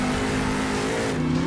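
A monster truck engine in the Monster Jam Steel Titans video game revs in a steady, loud drone with a slight pitch rise, heard alone for a brief moment.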